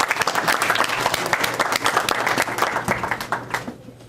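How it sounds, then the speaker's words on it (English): An audience at a sendoff event for a student trip to Ireland applauds, a full, continuous round of clapping that tapers off and drops away just before the end. "So let's give them a round of applause right now."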